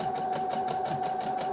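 A domestic sewing machine stitches fabric in a steady, rapid mechanical chatter with a constant motor hum, close and alone for a moment with no talk.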